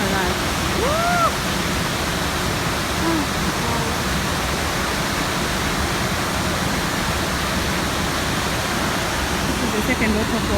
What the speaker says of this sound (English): This is the second waterfall.